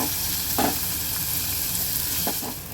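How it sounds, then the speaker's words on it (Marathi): Onions frying in hot oil in a pan for a Maharashtrian tikhat varan dal, a dense loud continuous sizzle with a couple of brief stirring scrapes, close by. "कांदा टाकून घेऊया आणि कांदा छान गुलाबी रंगाचा होईपर्यंत छान भाजून घेऊया"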